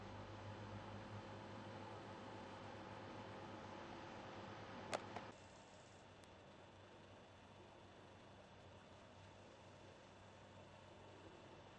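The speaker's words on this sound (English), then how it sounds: "That little gentle hum you can hear in the background is the pool heater, which chugs away merrily." A pool heater runs as a steady, gentle low hum beside an in-ground pool kept at 29 degrees, with a brief sharp click near the middle, after which the background drone drops slightly quieter and continues alone.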